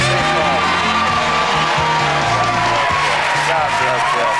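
A studio audience at a Monday-night taping of the talk show Politically Incorrect with Bill Maher cheers, whoops and claps loudly and continuously, a dense crowd roar filling the whole stretch.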